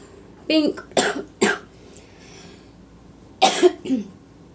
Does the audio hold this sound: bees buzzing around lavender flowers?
no